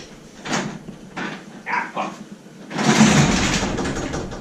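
A door is banged and shoved around in a home during a Ford Bronco rust repair, with a few knocks and thumps and then a louder burst of rattling near the end. A dog and a voice can be heard around it.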